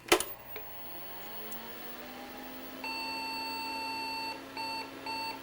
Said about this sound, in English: We'll get a beep code probably, because the computer knows that the card is sick.